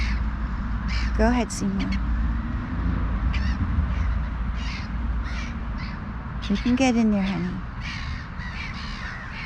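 Crows cawing in short, harsh bursts, two main clusters of calls close by, while someone talks softly to a bird over steady background rumble.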